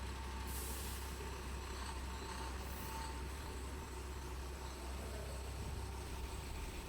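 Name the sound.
bus arriving at Byndoor bus stand, air brakes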